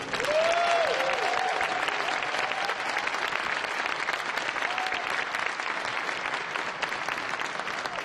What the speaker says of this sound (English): So let's all together give Commander Hadfield one more big cheer.